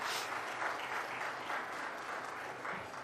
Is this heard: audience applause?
yes